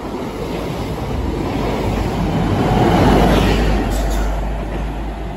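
The Midland Pullman train rushes through Devonport station, a loud, close, steady roar of wheels and engine that swells toward the middle and eases slightly at the end.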